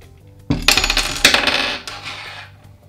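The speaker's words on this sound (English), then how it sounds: "we can simply now just pull the pulley out of the frame" A belt pulley slid out of the frame of a ZAP jack shaft operator: close, loud metallic clattering and rattling over about two seconds, with a sharp first clank and a second burst partway through.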